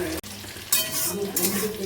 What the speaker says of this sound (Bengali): আগে ভালো করে একটু ভেজে নিই